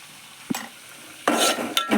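A spoon stirs turmeric into curry in a pan, with soft scraping strokes: one short stroke, then a longer scrape and a final quick one, over a faint sizzle.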